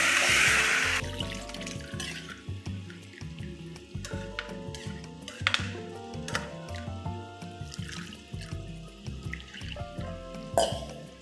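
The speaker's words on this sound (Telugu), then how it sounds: "1కి 2 చొప్పున వాటర్ వేసేసుకోవడం." Water is poured into a pot of khichdi, a brief rush of liquid at the start followed by scattered stirring scrapes, knocks and soft sizzling bubbling close by.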